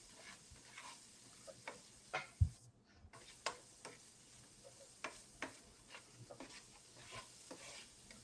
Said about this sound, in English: Let me go ahead and finish sauteing all this.